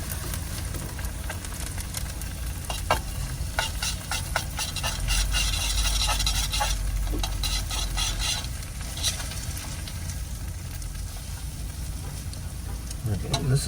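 Egg frying in a hot pan in a cramped van kitchen, a steady close sizzle with crackles and scraping stirs throughout, growing louder in the middle before easing off.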